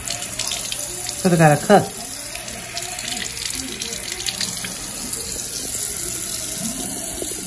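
Water runs from a sink tap for rinsing a mouth, a steady close splashing flow throughout, while a short spoken phrase is heard near the start.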